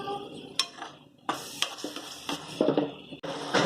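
A spoon stirs tomato puree with ginger, garlic and onion paste in a pan for Punjabi chole masala gravy, giving close, irregular scrapes and clinks against the metal with brief sizzling bursts in between.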